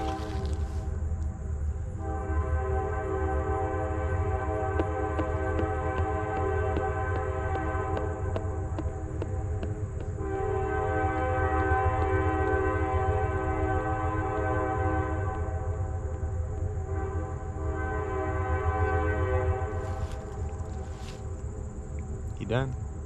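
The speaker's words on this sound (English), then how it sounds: "dadgum train." A train rolls past with a long, loud horn blowing in repeated sustained blasts over the steady rumble of the cars, close by and dominating the scene.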